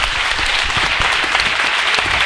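A hall audience at an Argentine early-childhood policy event applauds Education Minister Alberto Sileoni after his speech, a dense, even roar of clapping throughout.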